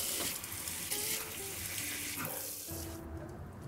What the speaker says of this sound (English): Watering these.